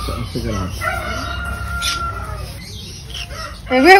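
Small caged birds that feed on maize cobs chirp and chatter at close range on a guava farm, with a louder squawking burst at the end.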